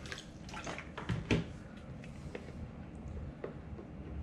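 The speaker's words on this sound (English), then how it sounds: "So you can remove the lid and fill it with water." Water pours steadily into the 4-liter tank of an SDHT humidifier with its lid removed, a close, continuous splashing fill with a few louder gushes near the start and no talk.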